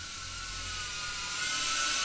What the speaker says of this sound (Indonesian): Reptil ini memang drone Cinewhoop yang sanggup bawa action cam ya.